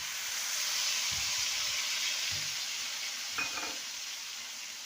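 Mustard and peanut paste frying in a pan of tempered oil for a parwal dish, a soft steady hiss broken by a few brief stirring scrapes.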